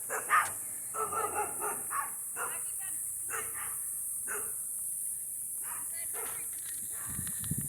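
Dogs bark intermittently in a rural residential neighborhood on a vacant lot in Sanlando Springs, Altamonte Springs, in the early afternoon, several short barks set back against a steady high hiss and outdoor background.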